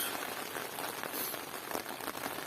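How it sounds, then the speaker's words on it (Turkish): Heavy rain pattering steadily on a tent at a campsite, a dense continuous hiss of drops with no voices. "Dışarıda fena yağmur var."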